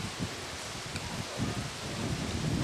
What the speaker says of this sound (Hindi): हे भगवान बारिश भी होवे लगले